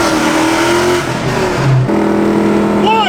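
A car fitted with a Flowmaster Outlaw catback exhaust revs loudly and up close. The engine holds a deep, rumbling note that climbs and falls, and a voice briefly speaks over the exhaust.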